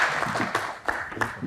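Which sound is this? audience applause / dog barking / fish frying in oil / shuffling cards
audience applause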